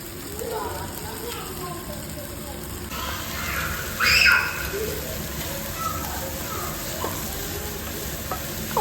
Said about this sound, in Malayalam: ഇഞ്ചി വെളുത്തുള്ളിയും ചതച്ചത് ചേർത്തൊട്ടിട്ട് ഒന്ന് വഴറ്റിയെടുക്കുക